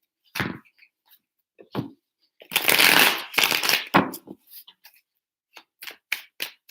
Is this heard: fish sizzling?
no